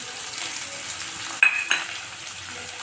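Onion tipped into hot oil for an ivy gourd (tondli) curry, a sharp sizzle bursting up then settling into steady frying with a second clink, close and alone.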